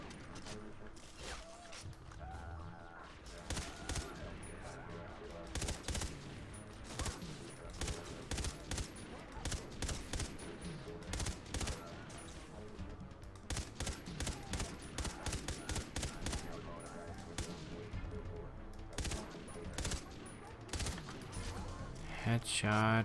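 Rapid bursts of automatic gunfire from the video game Far Cry 3 Blood Dragon, repeated volleys of shots with game music and effects layered underneath, loud and close throughout.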